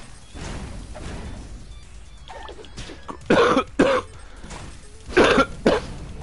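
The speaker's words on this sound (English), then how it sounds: "and then I started coughing" Coughing during a tabletop role-playing session, two or three harsh bursts close to the mic after quieter background noise, without talk.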